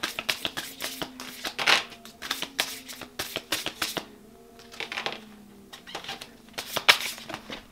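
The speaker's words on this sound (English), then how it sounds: "my hands are too small to shuffle these without doing it vertically" Rapid riffling flutters of a tarot deck being shuffled vertically, repeated in short bursts with brief pauses between, close and fairly loud.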